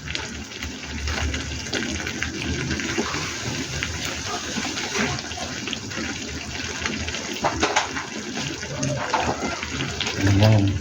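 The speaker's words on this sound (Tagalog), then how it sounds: "Kailangan natin maglagay ng tubig." Water poured into a pan of simmering spaghetti sauce, a steady splashing gush running for several seconds, mixed with kitchen clatter and a voice speaking over it.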